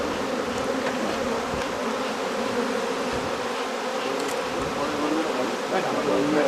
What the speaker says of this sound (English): like the guard bees are going to be defending right there.